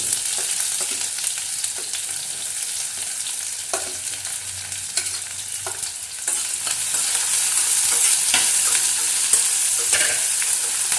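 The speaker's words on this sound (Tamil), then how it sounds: "வெங்காயம் நல்லா செவக்க வறுத்துக்கங்க" Onions sizzle in hot oil for a prawn curry while a utensil scrapes and stirs them in repeated strokes, close up and steady, with no talking.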